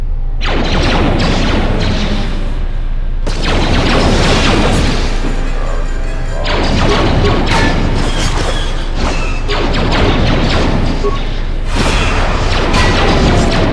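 Dense, loud explosive booms and crashing blasts from a grenade in Star Wars KOTOR II, sustained and chaotic throughout with brief lulls, dominating the scene with no clear talk.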